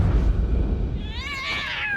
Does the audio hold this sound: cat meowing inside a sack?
yes